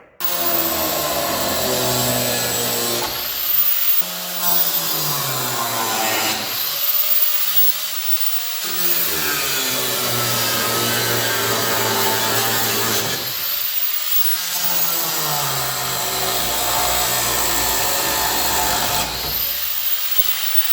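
Power tool cutting under a car near the front brake lines, a loud continuous grinding whine with repeated pitch sweeps and short pauses as the blade bites and eases off.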